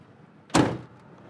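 A single door of a 1971 Ford Mustang convertible shuts with a solid thump, near and fairly loud, followed by a brief fading rattle and quiet background.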